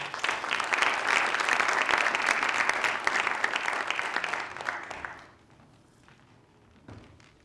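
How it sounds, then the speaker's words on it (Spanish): Audience applause in a hall at a tribute event for Santiago Ramón y Cajal, loud sustained clapping that fades out after about five seconds, followed by a quiet room with a few soft thumps. "Un aplauso para él, por favor."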